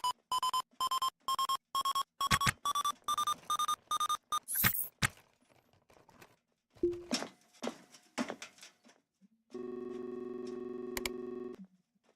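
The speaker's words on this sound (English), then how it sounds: "Forgot to turn the proximity alarm off." A proximity alarm beeps in a rapid, steady series of about a dozen loud electronic tones, followed by scattered clicks and a sustained droning tone.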